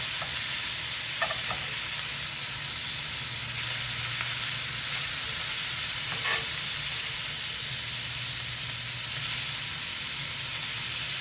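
Pieces of meat fry undercooked side down in a pan for zuppa toscana soup, a dense, steady close sizzle with a few faint clinks, continuous throughout and no voices.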